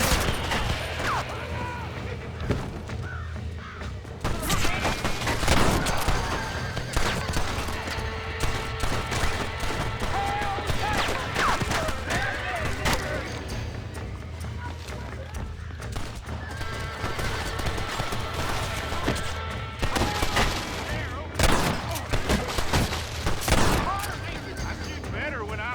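Gunfire in Red Dead Redemption: repeated sharp shots and bursts scattered through a busy scene, with horses whinnying and hooves clattering, loud and close, alongside a shouting voice.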